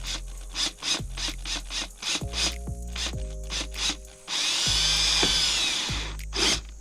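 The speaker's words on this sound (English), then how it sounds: "we're gonna start driving screws in now" Power driver sinking screws into a diffuser bracket on a Genesis Coupe, with short repeated whirring bursts and clicks, then a longer grinding run as a screw drives home, close and fairly quiet.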